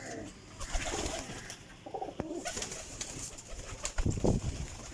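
Jalebi-coloured high-flying pigeons coo in soft, low, throaty bursts nearby, with rustling and light background noise between the calls.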